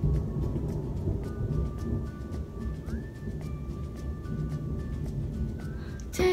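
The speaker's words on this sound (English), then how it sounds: "I'm laying in my bed and it's pouring" Heavy rain pours steadily outside a bedroom during a summer thunderstorm, a dense hiss with low rumbling thunder rolling underneath and a few sharper drips and taps, close and continuous with no talk.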